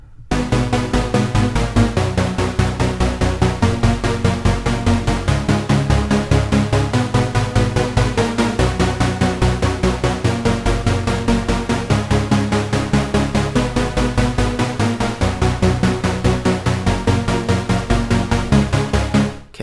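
A bright, high synth stab for a future bass drop repeats in a steady fast rhythm, loud and dense, with a washed reverb tail filling the background and no talking.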